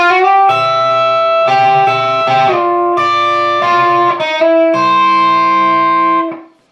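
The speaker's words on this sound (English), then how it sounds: "these outro licks that you'll hear, the first one sound like this" Electric guitar playing outro licks, with slides into sustained, ringing bluesy notes across several phrases, loud and alone, fading out at the end.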